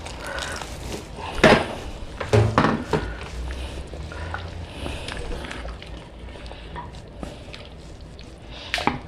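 Freshly boiled water from a kettle pours into a pot of mutton curry cooking in a Pahadi curd gravy, a soft liquid rush with gurgles and small splashes, plus a few kitchen clatters and brief sounds.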